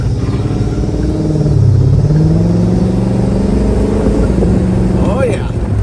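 A 1967 Pontiac GTO engine roars steadily while the car is driven, a loud low rumble that climbs in pitch as it revs, with a rising whine near the end.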